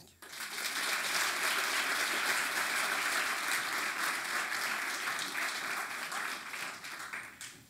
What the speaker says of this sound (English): please make welcome Mr. Lakpatsoko with a great applause